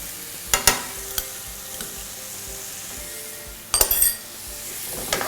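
A spatula stirs a sizzling vegetarian Shanghai-green and holy-basil stir-fry in a hot pan to dissolve sugar. A constant fry hiss runs underneath, with a few sharp metallic scrapes and clinks, clustered near the start and again toward the end.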